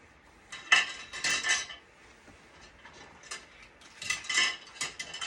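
Metal dental instruments clatter and clink against each other as they are handled for drying after a final rinse in a home kitchen, with two bursts of jangling separated by a quieter pause.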